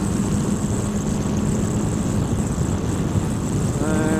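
A motorcycle engine drones steadily during riding practice, its throttle held open with a continuous mid-loud hum and a slight rise in pitch near the end.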